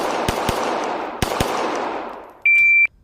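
Pistol shots fired at shooting targets, several sharp loud cracks with ringing decay, two quick pairs among them, followed by a steady electronic beep, no talk.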